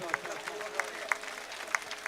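Audience applause at a political rally in Thara, Kankrej, with a soft, steady patter of clapping and a few sharper claps standing out, fairly faint and distant.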